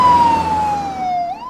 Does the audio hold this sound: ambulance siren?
yes